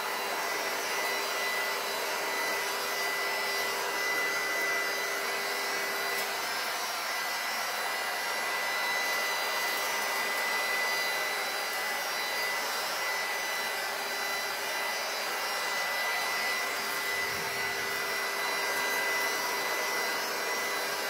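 A heat gun blows steadily while shrink wrap is heated over a butterfly chair Easter basket: a loud, continuous airy roar with a high whine that runs unbroken throughout, with no talking.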